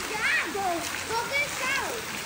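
Children splash and play in a resort swimming pool set beside a river in the forest, with water churning steadily under excited kids' voices and chatter throughout.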